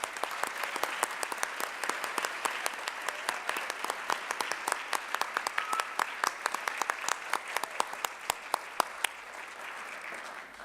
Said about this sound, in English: Let's give all of the nominees a round of applause.